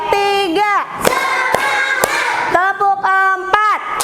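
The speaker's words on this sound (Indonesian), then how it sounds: "tepuk 1, tepuk 2, tepuk 3" A classroom group chants a count in unison, and sharp, loud claps land between the chanted phrases in a steady counted rhythm, with single and spaced clap strikes.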